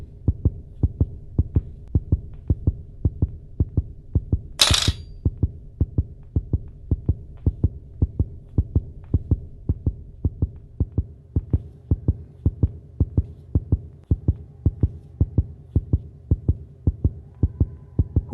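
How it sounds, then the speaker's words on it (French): In the horror game Granny, a heartbeat thumps in a steady, rapid rhythm, loud and close, running without pause; a single brief sharp noise cuts in once near the start. "vous entendez les battements de cœur"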